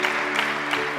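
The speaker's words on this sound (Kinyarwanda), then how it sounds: "Amashyi." A crowd claps together at a wedding ceremony, a short burst of applause with a few louder swells, over a faint sustained tonal background.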